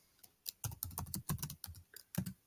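Keystrokes on a computer keyboard while renaming a file, a quiet run of irregular clicks and clacks in small bursts with brief pauses, close and alone with no talking.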